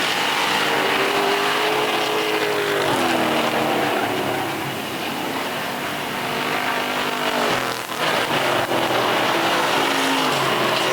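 Race cars lap a track, their engines roaring loud and continuously, with pitch sweeps as they brake into turns and accelerate out, one pass swelling briefly nearer before the drone settles again.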